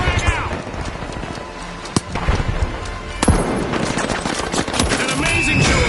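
A frag grenade blast and rapid gunfire ring out in the video game The Finals: loud bursts of automatic fire crackle continuously, with sharp explosive cracks standing out around the second and third seconds.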